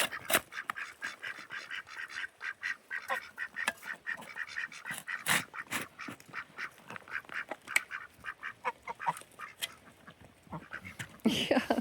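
Ducks in a garden keep up a busy run of quacks and clucks, many short calls in irregular bursts, close and moderately loud with no talk over them.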